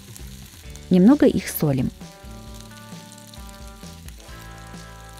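Halved cherry tomatoes frying in hot vegetable oil in a pan, a soft, steady sizzle beneath background music, with someone briefly speaking over it.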